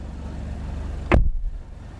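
A 2021 Kia Stinger door swings shut with a single solid, deep thud close by, out in hot South Texas, set against a low steady background rumble that lingers briefly afterward.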